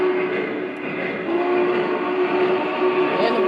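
A 2015 Vision Line model Big Boy steam locomotive gives off a steady, close rumble of chuffing, with a sustained whistle-like tone running through it.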